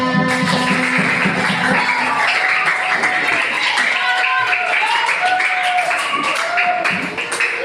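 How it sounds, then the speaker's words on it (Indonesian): Children in an Indonesian classroom clap together in a loud, busy burst of rhythmic hand claps, with voices and some chanting mixed in as the clapping continues throughout. "Tepuk tangan."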